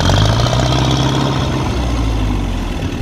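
An old grey Ferguson tractor engine idles steadily close by, a low, even rumble with a slight throb that holds throughout, no speech over it.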